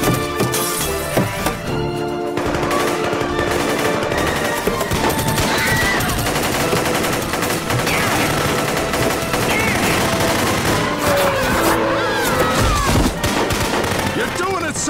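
Cartoon gunfire in American Dad, dense rapid volleys of shots and bursts with shattering impacts, loud and sustained, mixed with shouting voices and music.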